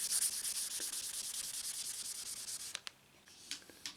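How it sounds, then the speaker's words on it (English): Steady wet sanding with 800 grit sandpaper on a guitar body, a continuous gritty rubbing close up, with a brief pause near the end before a few more short strokes. "I'm going to try wet sanding with 800 grit"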